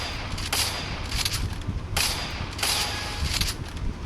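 Gunfire in a shooting video game with a hacker taking zoomed headshots, several loud sharp bursts at intervals over a dense, continuous game soundtrack.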